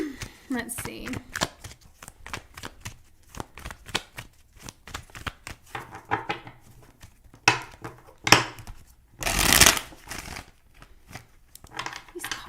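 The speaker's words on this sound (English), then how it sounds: "These cards are not wanting to shuffle." Rapid papery riffles and snaps of a card deck being shuffled, close up, in several bursts with quieter handling between.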